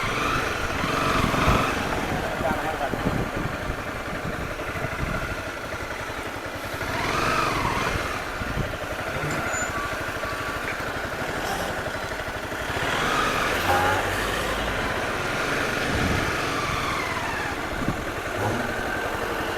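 A Honda CBR250 motorcycle rides in slow traffic behind a state transport bus on the road to Mahabaleshwar; its steady, close engine drone hums throughout with passing traffic noise, and no one speaks.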